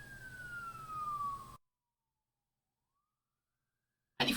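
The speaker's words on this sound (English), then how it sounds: "we shall begin the police siren again" A loud wailing police siren sweeps downward for about a second and a half, picked up by a Creative Live! Cam 4K webcam, then cuts to abrupt silence before a short burst of noise.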